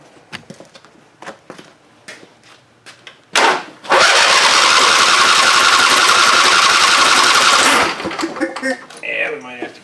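An old abandoned Husqvarna engine with an old carburetor, running on old gas, cranks with a brief sputter, then catches and roars loudly at a steady high idle for about four seconds before cutting out, with talk before and after.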